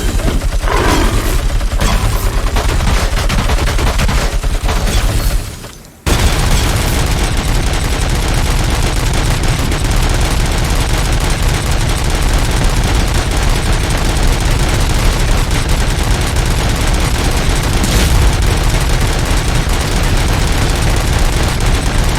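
Sustained gunfire from RoboCop's weapon in the video game RoboCop: Rogue City, loud and dense, rattling on almost continuously apart from one short break about a quarter of the way through.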